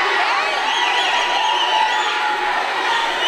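A TV show's studio audience cheers and screams in a continuous, dense roar of voices, bright and sustained throughout with no pauses.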